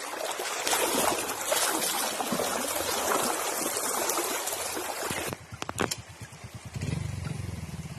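Someone wading barefoot across a river stream: a steady rushing, splashing water wash for several seconds, then quieter irregular sloshes and thuds as the footsteps slow.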